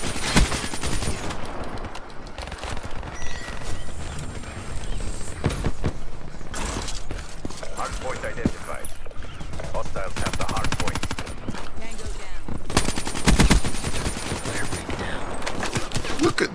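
Gunfire in Black Ops 3 rattles in rapid automatic bursts and single shots, loud and dense across the whole stretch, with brief pauses between volleys.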